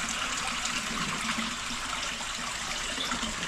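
Water pours steadily out of a fish stocking truck's tank while farm-raised channel catfish are being released into a pond, a continuous rushing, splashing flow heard close up throughout.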